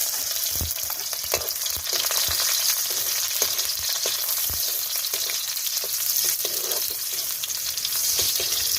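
Garlic and onion frying in a pan for a cuttlefish dish, a steady close hiss of sizzling oil with occasional soft scrapes and taps of stirring.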